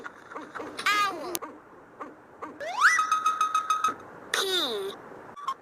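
An owl hoots a few times in a cartoon jungle alphabet scene, mixed with whistling, swooping synth effects and chirpy sounds, with no talking.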